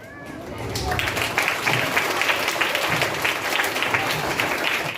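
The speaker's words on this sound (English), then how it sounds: "Students, welcome him with a big round of applause." Students at a school mono acting competition applaud to welcome the judge, a steady crowd of claps that swells quickly and holds evenly, with some background chatter mixed in.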